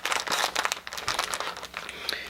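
Packaging from a limited-edition Super Neptunia RPG collectible is pulled open where it is taped down, giving close, busy crinkling and crackling with short rustles and tearing bursts throughout.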